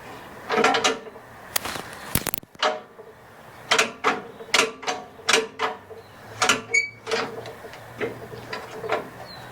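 The gear shift lever on a rototiller is worked back and forth, giving a string of close, sharp metallic clicks and clunks in an uneven rhythm, with a few light rattles in between.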